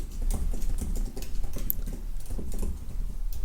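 Quick, busy typing on a computer keyboard, a dense patter of close clicks running without a break for a few seconds, no talking.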